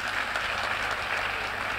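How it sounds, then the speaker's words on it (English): Audience applause fills a hall during a marriage teaching session, a dense, steady wash of many hands clapping at once, sustained and fairly loud throughout with no voices over it. "be generous with your clapping"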